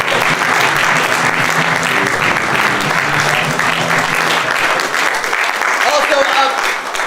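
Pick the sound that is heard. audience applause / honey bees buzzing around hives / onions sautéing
audience applause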